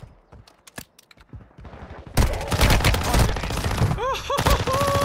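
Automatic gunfire in the mobile shooter Warzone Mobile: a few scattered shots, then a loud, sustained rapid burst of firing with mechanical clatter and brief tonal chirps near the end.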